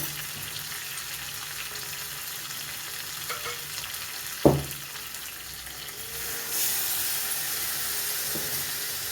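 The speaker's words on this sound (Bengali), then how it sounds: "হলুদ আর চিনিটা দিয়ে দিলাম, আর তার সাথে ভেজে রাখা ভেন্ডিগুলো দিয়ে কিছুক্ষণ কষিয়ে নেব" Fried okra cooking down with turmeric, sugar and a little water: a steady hiss of frying with a single sharp knock midway, then the sizzle swells louder and brighter as steam hisses up toward the end.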